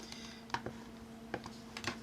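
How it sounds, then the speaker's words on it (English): Keys on a computer keyboard are tapped in a handful of quiet, crisp clicks at uneven intervals over a low steady hum. "we're going to tap on the letter S on your keyboard"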